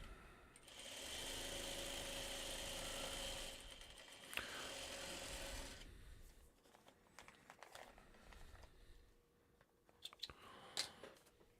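A sewing machine runs in a steady burst for several seconds while stitching a seam, then stops, followed by quieter rustling and handling of fabric up close with light clicks.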